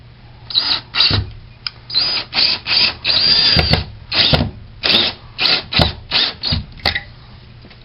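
Power drill driving Phillips screws while a closet system is installed, in short whirring bursts with brief pauses between them, close and loud.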